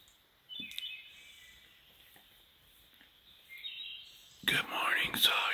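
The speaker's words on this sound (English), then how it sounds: "the birds are saying good morning." Birds on a mountain in the morning give thin high chirps and trills, faint and quiet, with soft whispering and rustling nearby and a louder scrape near the end.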